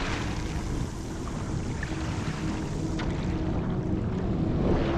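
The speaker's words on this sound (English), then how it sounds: "Boats everywhere, noisy jet skis as you expect." Constant roar of jet ski and boat engines and rushing water, with a wind-buffeted rumble throughout and no clear breaks.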